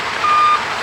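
Reversing beeps from an arriving tow truck, a steady high electronic tone repeating over continuous engine and traffic noise, fairly close and loud.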